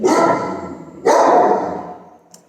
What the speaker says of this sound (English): sorry, don't mind my dog.